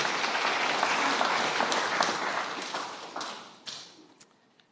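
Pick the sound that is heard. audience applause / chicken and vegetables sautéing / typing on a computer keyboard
audience applause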